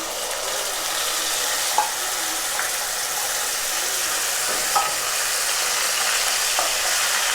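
Ground green chili and cumin stirred into frying onions for a cauliflower and snakehead fish curry, a loud steady sizzle with occasional soft scrapes and taps of a spatula in the pan, no voices.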